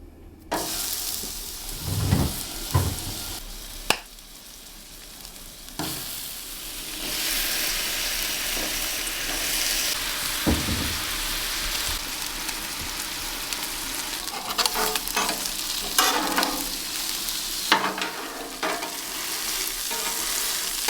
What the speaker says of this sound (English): why are you flattening those burgers? Just so they cook a little better